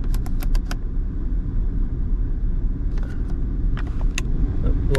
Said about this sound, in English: The blower motor is working